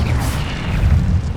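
Incendio fire spell cast in the Hogwarts Legacy video game, a continuous loud low rumbling whoosh of flame with dense booming texture running steadily throughout, no voices.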